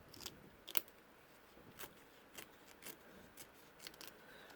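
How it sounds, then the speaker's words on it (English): Squeeze scissors trim excess fabric from a machine-embroidery hoop project, a string of quiet, crisp snips at uneven intervals, close and faint with no talking. "I'm taking my squeeze scissors and coming along and trimming away the excess fabric."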